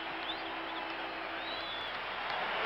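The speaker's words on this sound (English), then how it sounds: "And listen to this crowd." Boston Garden crowd before Game 1 of the 1975 Eastern Conference basketball final against the Washington Bullets makes a dense, continuous roar of cheering and clapping, steady and broad with no breaks.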